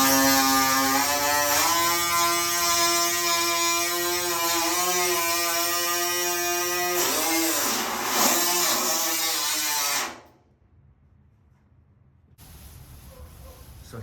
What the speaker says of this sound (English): I really do like using the die grinder.